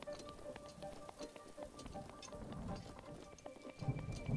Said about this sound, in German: Und es regnet natürlich wieder